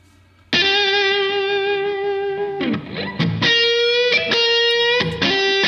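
An electric guitar plays sustained chords and notes drenched in reverb and echoing delay, loud and close with no voices.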